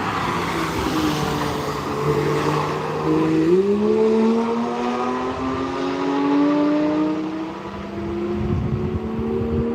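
Race cars accelerating at the Nürburgring, their engines droning steadily and rising in pitch as they gun it, with no voices over the sustained roar.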